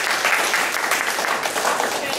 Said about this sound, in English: we didn't clap for the people who already spoke.